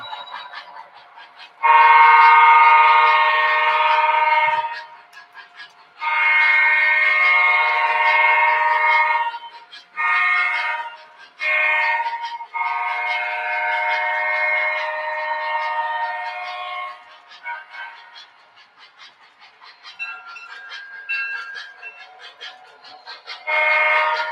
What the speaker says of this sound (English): the diesel I'm running is a Seaboard.